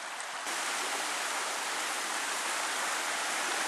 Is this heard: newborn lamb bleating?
no